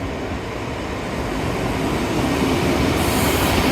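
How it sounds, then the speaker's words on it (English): A blue and green train runs at Paignton, its steady loud rumble heard from on board with a rolling wheel roar that swells slightly and a faint high squeal near the end. "So I'm actually going to ride on the magical blue and green train."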